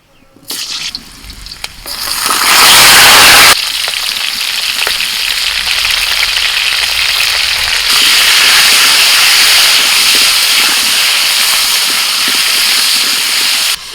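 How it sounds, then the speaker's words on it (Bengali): A loud burst of hissing sizzle as potatoes hit hot mustard oil in a karahi, settling into a steady, crackling fry that continues without pause. "কড়াইতে সর্ষের তেল দিয়ে দিয়েছি এবার ওর মধ্যে আমি আলু দিয়ে দিচ্ছি"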